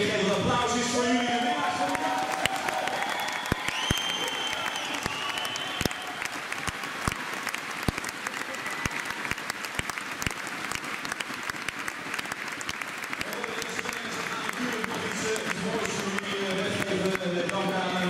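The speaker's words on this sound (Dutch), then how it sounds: "Een applaus is voor jullie." Crowd applause in a badminton arena at the Dutch Open 2019 mixed doubles, sustained clapping with sharp individual claps and a voice over a loudspeaker talking throughout.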